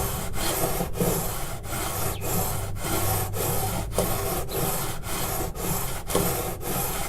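Steady back-and-forth sanding on the fret area of a Johnson acoustic guitar under repair, a continuous raspy rubbing in regular strokes about every half second to second, close and fairly loud, with no talk.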